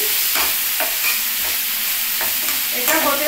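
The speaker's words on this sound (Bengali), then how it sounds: "এখানেও পেঁয়াজটা আমি লাল লাল করে ভেজে নিচ্ছি" Onions frying to a reddish brown in a pan, a loud, dense continuous sizzle with repeated scraping stirs roughly every half second, close up and no voices.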